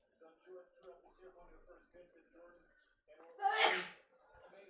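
A single sharp sneeze bursts out near the end, following quiet background talk in a room during an opening-day baseball watch party.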